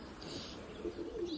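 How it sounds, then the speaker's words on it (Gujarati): Pet pigeons sitting together in a cage give soft, low coos, faint and somewhat distant, with the calls growing a little clearer toward the end. "પિંજરામાં બેઠા છે ને આપણા કબૂતર બધા બેઠા છે"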